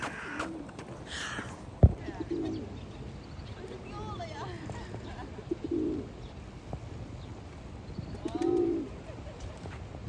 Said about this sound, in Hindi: पर ये कबूतर वगैरह बैठे हुए हैं